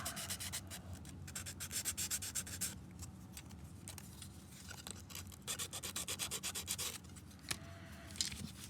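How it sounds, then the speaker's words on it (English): Fingernail file rubbing against a plastic P-40F scale model part, a continuous close, quiet rasping in quick repeated strokes. "The only other thing is we're going to take one of our fingernail files"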